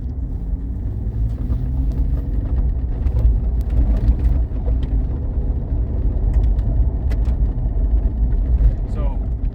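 A car's engine and road rumble fill the cabin during a driving lesson as the car picks up speed, a steady, close low drone with a voice talking over it.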